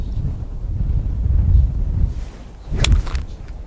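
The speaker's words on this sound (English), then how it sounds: "It's so windy." Strong wind buffets the microphone in a continuous low rumble, swelling and easing with one sharper gust burst near the end.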